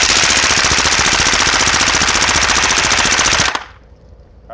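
A long, loud, rapid burst of automatic gunfire pours rounds into a target without pause for over three seconds, then cuts off abruptly into near silence.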